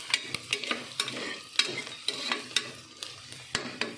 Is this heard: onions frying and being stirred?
yes